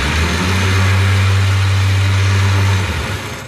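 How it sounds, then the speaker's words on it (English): An electric winch motor whirs steadily as it reels line onto the spool, a loud low hum that holds for about three seconds before stopping and fading. "I'm just gonna reel it up."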